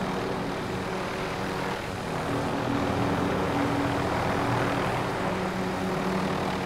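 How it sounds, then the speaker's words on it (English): Helicopter rotor from a video game, a steady droning engine hum with a low rhythmic thump that holds at an even, fairly loud level throughout, without any talk over it. "Chopper's still there"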